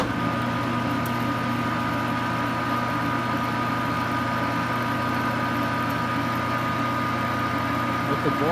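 Grinding spindle mounted on a Sherline metal lathe running at about 360 RPM, a steady near motor whine with tonal hum holding evenly across several passes.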